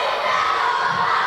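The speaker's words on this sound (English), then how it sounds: "And the crowd getting on his case again, much like earlier in the match." A wrestling crowd at a W3L Showdown event jeers a wrestler, a dense, loud and continuous wall of shouting voices filling the hall with no break.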